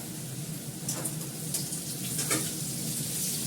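Potatoes fry in ghee with garam masala, giving a steady close sizzle with a few brief stir scrapes, no voices.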